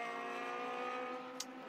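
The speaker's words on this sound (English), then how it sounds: "you can still see the cars whistling through" Race cars at Circuit of the Americas at dusk in a Pirelli World Challenge Sprint-X race whine past, a high, harmonic engine scream that holds and then eases briefly, loud and close with no talk.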